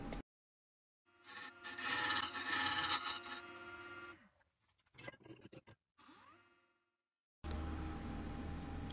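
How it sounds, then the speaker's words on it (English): Woodturning a champagne flute on a lathe with a diamond detailing tool, giving bursts of close scraping and rasping as the tool cuts the spinning wood, broken by silent gaps, short bumps and a steady machine hum at the end. "I'm using the diamond detailing tool from Blackline and the mini Blackline tool"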